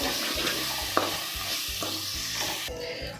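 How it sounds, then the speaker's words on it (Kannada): Spices with red chilli powder, coriander powder and garam masala frying in a pan, a steady close sizzle with occasional stirring scrapes and taps, no talk. "ಸ್ವಲ್ಪ ಕೊರಿಯಂಡರ್ ಪೌಡರ್, ಗರಂ ಮಸಾಲ ಸ್ವಲ್ಪ ಎಲ್ಲ ಹಾಕ್ಕೊಂಡು ಚೆನ್ನಾಗಿ ಫ್ರೈ ಮಾಡ್ಕೋಬೇಕು"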